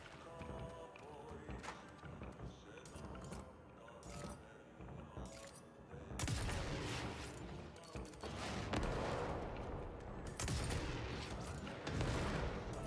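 Video game gunfire crackles in scattered shots and then thickens into heavy, dense volleys, with explosive booms over busy background game sound.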